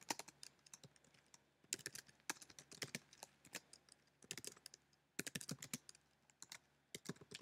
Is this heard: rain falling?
no